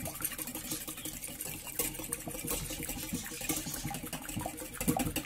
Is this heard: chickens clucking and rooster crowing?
no